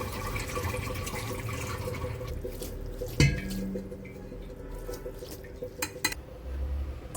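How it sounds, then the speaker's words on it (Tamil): Tap water poured gently over boiled egg noodles to rinse them. A continuous, fairly close wash of running water, a sharp clank of a pot or utensil partway through, then softer drips and light handling noises. "இப்போ நார்மல் வாட்டர் கொஞ்சம் லேசாக ஊற்றி வாஷ் பண்ணி எடுத்துக்கிடுவோம்."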